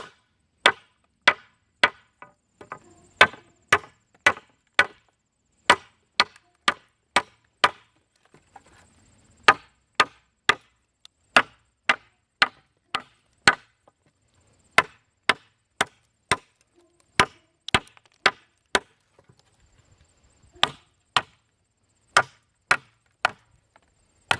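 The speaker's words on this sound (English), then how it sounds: "All right, let's chop through this. Let's do some chopping." Firm, evenly spaced chops striking wood, a long series of sharp, loud, close blows with short pauses between them, each a crisp crack with no talking.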